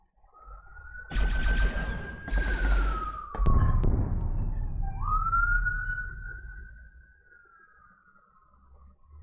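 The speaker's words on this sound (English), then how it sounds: "Can people hear those sirens?" A police siren wails and glides up and down as it passes, with loud rumbling traffic noise and bursts of engine roar beneath it.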